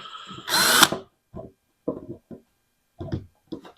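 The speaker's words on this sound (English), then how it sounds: "we need to go ahead and drill out all these holes here to be able to get that to fit" A power drill bores out holes in the steel body of a 1947 Ford street rod. One loud, sustained whine is followed by several short, sharper bursts separated by pauses, close and heard alone.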